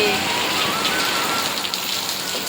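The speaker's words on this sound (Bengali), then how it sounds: "প্রচন্ড বৃষ্টি পরিমাণে বাপরে" Heavy rain pours down in a dense, steady hiss, close and loud throughout, with no voices.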